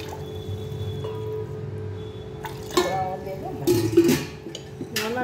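Plain water is poured into a bowl while dahi vada is being prepared, making a few brief splashing bursts over a low background hum.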